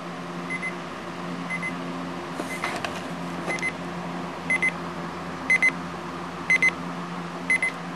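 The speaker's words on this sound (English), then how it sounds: "There's your alarm." Short electronic beeps from an Onn ONMAAC301 clock radio alarm sound in quick pairs, then triplets, growing louder over a steady hum of room noise.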